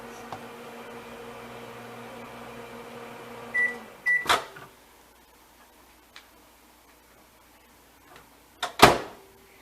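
Microwave oven heating apples, a low steady hum that stops with a beep, followed by a click and thud as the door opens, then quiet and another loud clunk near the end.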